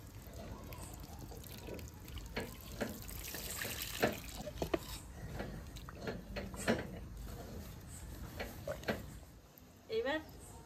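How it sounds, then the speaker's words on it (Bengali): Water poured and stirred into flour to mix batter for Bengali kuli pitha in a home kitchen, with close splashing and sloshing strokes. "এইবার আমি জল দিয়ে গুলে নেবো এটা।"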